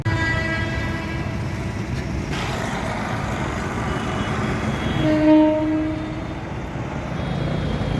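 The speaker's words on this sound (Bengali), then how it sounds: "দেখুন বর্ধমান কোয়ার্ডের ট্রেন যাচ্ছে" A local train on the Bardhaman line passing Bally Halt station, a steady rumble and rolling clatter with a short horn toot midway, heard from the platform side at moderate distance.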